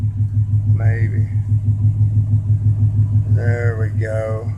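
A small Chevy engine fitted with an Edelbrock carburetor idles after a cold start in a loud, steady, pulsing low rumble close by, while people talk over it briefly.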